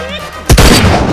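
A single gunshot cracks out loud and close, a sharp burst that rings off briefly, following a moment of quieter voice.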